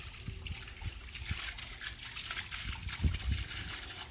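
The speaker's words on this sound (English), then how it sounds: "Just in the middle of filling up the pool, my friends." Water trickles and splashes steadily into an outdoor pool being filled at a house in Merida, a soft continuous running stream with a few louder gushes near the end, with no voices.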